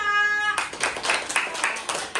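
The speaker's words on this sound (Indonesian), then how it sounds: "Tepuk tangan untuk kelompok 5." Schoolchildren in a grade 5 coding class clap for group 5, a short burst of scattered hand claps following a brief electronic tone at the start.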